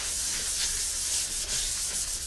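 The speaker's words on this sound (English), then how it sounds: "This is a sanding pad that is sandwiched between a foam pad, and I'm going to rough up my surface." A sanding pad backed by foam roughing up a surface on a wooden lazy susan, a steady close hiss of abrasive rubbing that continues without pause.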